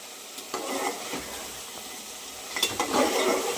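Goat meat sautés in a pot with a soft, continuous sizzle and occasional bursts of scraping and stirring, close by and moderately quiet, with no speech.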